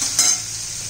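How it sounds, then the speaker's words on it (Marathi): Tomatoes sautéing in a pan for veg Schezwan fried rice, a soft steady sizzle with a brief scrape of stirring near the start, close and fairly quiet. "एखादा मिनिटभर टोमॅटो परतून घ्यायचा आहे"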